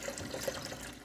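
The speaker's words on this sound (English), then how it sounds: "I'm going to pour some water in." Water is poured into a Ninja coffee maker's reservoir, a brief steady trickle and gurgle heard close and fairly soft.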